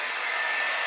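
A hair dryer runs at home with a steady, loud, continuous airflow whir and a faint high whine, alone without talk.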